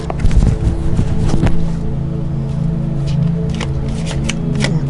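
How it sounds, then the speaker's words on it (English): Sticky tarot cards being shuffled up close, a dense papery riffling and flicking that comes in bursts over a low steady hum. "The cards are sticky. Having a hard time to shuffle."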